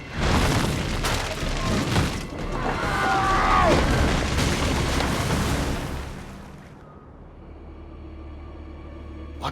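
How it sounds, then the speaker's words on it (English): A loud rumbling explosion in Assassin's Creed II booms and rolls for several seconds, crackling as it goes, then dies away to a quiet hum. "Probably just kids with firecrackers."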